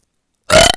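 A single loud, close burp erupts after a moment of silence, a short guttural rasp that trails off with a small final hiccup of sound.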